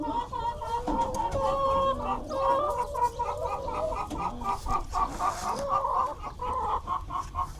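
Several backyard hens cluck and murmur close by in a steady, overlapping chatter, with a few louder squawks rising out of the flock.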